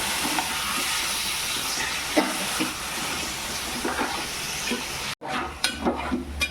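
Minced chicken sizzles steadily in a hot pan while a utensil stirs and scrapes through it, the frying continuing after a brief break.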